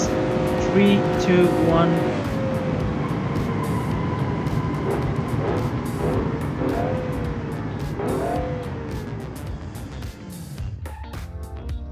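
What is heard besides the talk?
powerful pickup truck driving at top speed in BeamNG.drive video game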